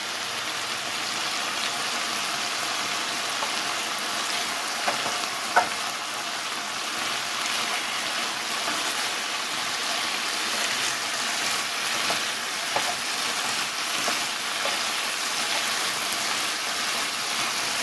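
Chicken pieces frying in a covered pan over medium-high heat, giving a steady, loud, dense sizzle with occasional sharper pops and crackles throughout.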